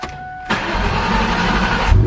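A car engine cranks and catches, then settles into a loud, steady idle over roughly a second and a half, close by, with no talking.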